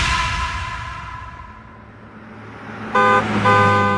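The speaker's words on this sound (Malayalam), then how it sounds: "ചീറിപ്പാഞ്ഞു പോയ ഏതോ ഒരു വാഹനത്തിന്റെ ഹോൺ ശബ്ദം കേട്ടാണ്" A car horn from a vehicle speeding past blares loudly near the end, a sustained honk that breaks off briefly and resumes, after a soft passing whoosh of traffic.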